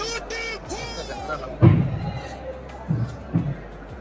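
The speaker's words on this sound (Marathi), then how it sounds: "खूप गर्दी" A large crowd in a long queue murmurs in the background as a nearby voice speaks, with a few louder thumps and bursts of noise.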